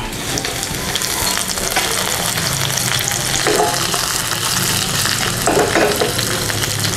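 Garlic hits hot oil for goat soup and sizzles steadily, a loud, close, continuous fry with occasional stirring scrapes and no one talking.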